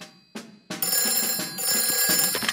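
A cartoon telephone rings in a children's animated episode, starting with two short separate bell strikes and then breaking into a bright, continuous ringing trill that carries on to the end with no voices.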